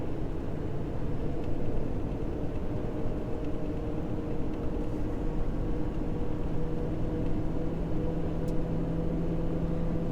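A 2020 Ford F350 Powerstroke diesel truck accelerates under load, heard from inside as a steady, dense drone and road rumble with no talk.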